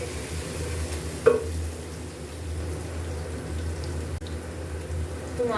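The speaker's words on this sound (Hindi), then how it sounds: "अब इसमें हम 1 चम्मच लहसुन अदरक का पेस्ट डाल लेंगे। 1 मिनट इसको हमने भून लेना है।" A steady, low sizzle of ginger garlic paste frying in oil in a pan continues throughout, with an occasional scrape or tap of a utensil stirring.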